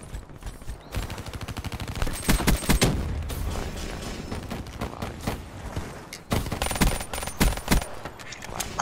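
Sustained light machine gun fire in the Black Ops 3 video game, with rapid automatic bursts and dense repeated shots, pauses between volleys, and loud sharp cracks near the end.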